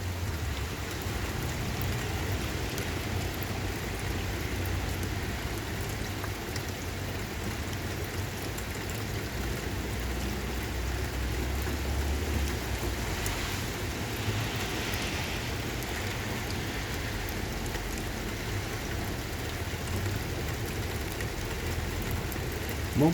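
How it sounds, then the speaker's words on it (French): Steady rain from a moderate morning thunderstorm falls outdoors around 8:20, a constant wash of drops on surfaces at moderate level with no distinct thunder standing out. "Voilà, orage matinal."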